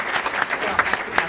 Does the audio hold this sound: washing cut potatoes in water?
no